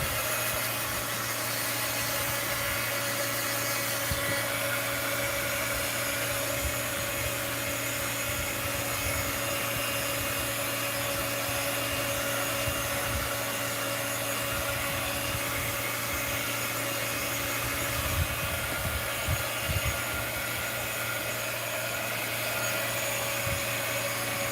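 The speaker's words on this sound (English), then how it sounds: "Let's hit that with the heat gun." A heat gun blows steadily on a mixed-media art journal page, producing a continuous close whirring hum with a constant airy roar and no breaks.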